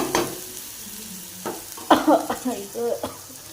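Chillies sautéed in a pan with ginger make a soft sizzle and stirring scrapes, while a voice talks over the latter part.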